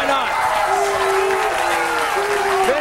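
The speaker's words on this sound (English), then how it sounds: "a couple of applause there" Crowd applause at a professional bowling tournament, a steady wash of clapping from spectators heard beneath a commentator talking throughout.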